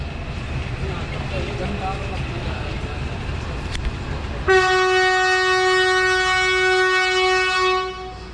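Ganga Nagar Express pulling out of a station in India, a continuous rumble of rail cars followed by a long, loud, steady train horn blast that cuts off near the end.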